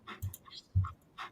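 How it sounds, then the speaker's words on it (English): A dog pants close to the microphone in short, breathy puffs with soft thumps and faint clicks between them. "that's my dog breathing in the mic"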